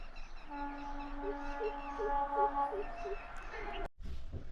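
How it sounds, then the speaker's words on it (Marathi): A long, steady train horn blares for about three seconds at moderate distance, with a wavering, voice-like tone beneath it before it cuts off. "रेल्वे कोकायला लागले"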